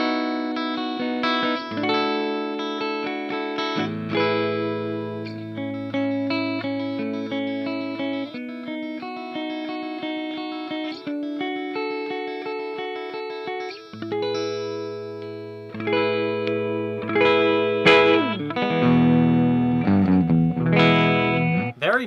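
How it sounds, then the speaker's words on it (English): A PRS McCarty 594 Hollowbody electric guitar plays clean chords and single notes with split pickups, ringing clearly and close with sustained tones and short gaps. "Very nice sound and clean guitar, I'll give it that."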